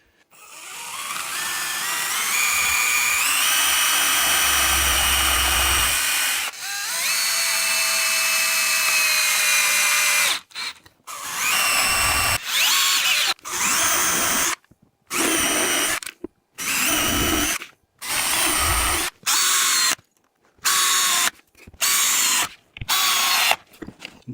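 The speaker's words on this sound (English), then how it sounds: "I'm going to use pocket screws to secure these panels to the baseboard." A power drill drives pocket screws into router table panels, with a long steady whir, a second sustained run, then a series of short, loud bursts separated by brief silences as each screw seats.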